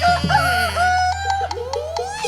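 A rooster from Kalasin province, Thailand, crows loudly and close up at a stage show, a strained, wavering cock-a-doodle-doo over a steady low hum.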